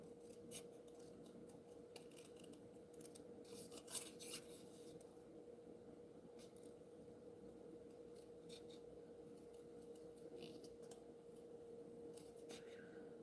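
Scissors cutting a rubber stamp in a studio, a series of soft, close snips and crisp blade clicks spread across the stretch, with a sharper cut near the middle over a quiet room hum.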